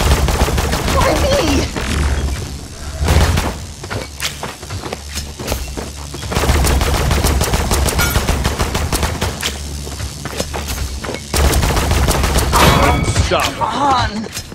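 Gunfire in the Paladins shooting range, with bursts of rapid automatic shots and heavier thumps coming in close, dense volleys over a low game rumble, broken by brief pauses.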